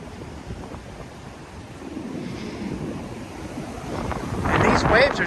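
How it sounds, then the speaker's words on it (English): Strong wind buffeting and high surf crashing on a beach during a nor'easter storm, a steady roaring wash that swells louder toward the end. "And these waves are still pretty high."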